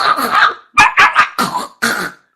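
A voice imitates a small dog coughing and choking, giving a raspy hack followed by a quick series of short, loud, close-up coughing bursts with brief pauses between them.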